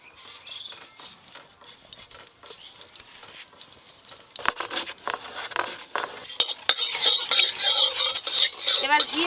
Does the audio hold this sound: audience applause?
no